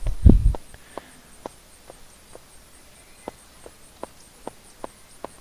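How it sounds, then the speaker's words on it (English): Footsteps in the video game Unturned, evenly spaced soft thuds walking steadily and moderately close after a louder rustle at the start, with no talk over them. "Do you hear those footsteps?"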